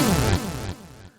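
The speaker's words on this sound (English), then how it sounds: "which basically is a synth bass going down the keys from top to bottom," A Tyrell Synth Bass 3 patch sweeps down the keys from top to bottom in a quick descending glissando, drenched in reverb and delay, with repeating echoes fading out over about a second.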